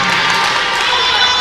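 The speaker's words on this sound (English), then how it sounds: "Still some claps from the Elmhurst bench." Scattered claps from the Elmhurst volleyball bench during a university tournament match, blended into a steady wash of crowd cheering and shouting in a gym.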